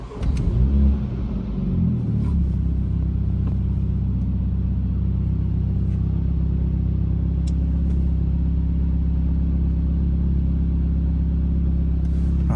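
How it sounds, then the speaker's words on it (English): A Mini with a 7-speed dual-clutch gearbox starts with a short cranking burst while the brake is held, then settles into a steady, close, low engine idle that drones on with faint clicks over it. "Firmly press the brake pedal, start the engine."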